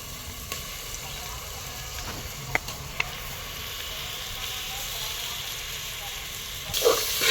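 Ground masala paste for Bhogichi Bhaji fries in oil with a steady, close sizzling hiss, broken by a couple of sharp spatula taps and a louder burst near the end. Nobody speaks.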